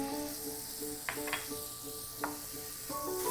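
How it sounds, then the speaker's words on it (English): Red onions sauté in a pan with a soft, steady hiss and a few faint clicks of utensils, quiet and close for a few seconds. "the first thing I'm going to do is to saute some red onions"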